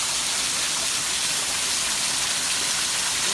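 Heavy rain pours steadily during Hurricane Irma at Disney World, a dense, continuous hiss of water close by with no talking over it.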